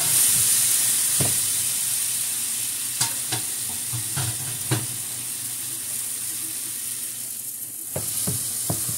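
Food sizzles steadily in a pan on a stove while a utensil stirs it, with occasional scraping knocks against the pan over the continuous close frying hiss.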